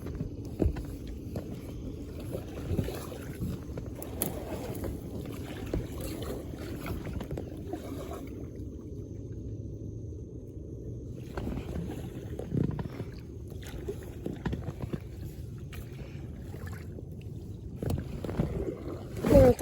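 Inflatable fishing boat moving across a large pond: quiet, soft water sloshing and rustling with intermittent light knocks and wind buffeting, fading briefly near the middle before picking up again.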